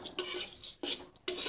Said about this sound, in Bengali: লো হিটে 8 থেকে 10 মিনিট নাড়াচাড়া করে ভেজে নেব জোয়া চালগুলো।